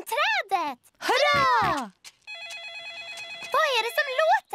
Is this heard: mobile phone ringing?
yes